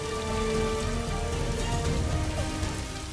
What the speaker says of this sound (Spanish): Está lloviendo and the rain mixes up with Melanie's tears.